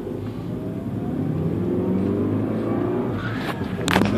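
Mini Cooper engine while driving, a steady low droning hum with road rumble from inside the moving car, ending in a brief louder rev.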